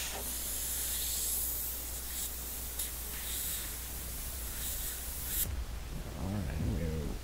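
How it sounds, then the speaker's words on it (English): An airbrush sprays a test burst of Createx Candy2.0 paint, a steady close hiss that runs for several seconds and then cuts off, with a voice speaking just after. "A little test spray."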